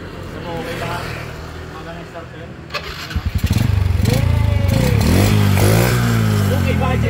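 A restored Honda Dash 110cc motorcycle cranks for a moment and then catches, settling into a loud, close idle with a steady rapid putter and a few slight revs, with voices talking over it.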